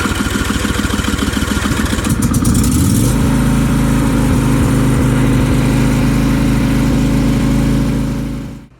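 A riding lawn mower engine cranks in a rapid rhythmic chug, then fires and runs loudly at a steady roar before cutting off abruptly; the mower has a fault of randomly shutting off.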